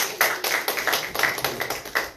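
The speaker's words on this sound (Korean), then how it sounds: "우리 어린이들 위해서 박수 한번 드리겠습니다." A church congregation applauds for the children during a Sunday worship service, a dense, steady patter of many hands clapping together for a couple of seconds.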